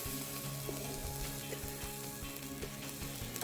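Chicken wings, Wagyu beef sausages and corn sizzle steadily on a hot BBQ, a constant close crackling hiss with a few small clicks and taps, no talking.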